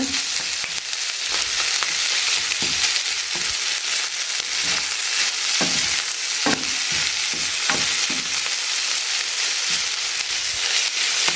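Leftover cooked rice fries in a hot pan under a constant loud sizzle, while a utensil stirs it with scattered scraping and tapping strokes, and no one talks.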